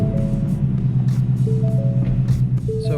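A 2018 Mustang GT fitted with an Injen cold air intake runs on a dyno with a loud, steady low rumble and a few thin tones rising over the engine noise.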